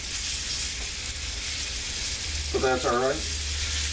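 Oxtail browns for soup in a hot pan, giving a steady close sizzle that runs throughout, with someone briefly speaking near the end.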